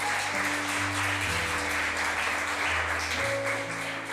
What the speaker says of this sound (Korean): 다시 한번 환영의 박수 해주실 때 이 자리로 돌아가 주시면 되겠습니다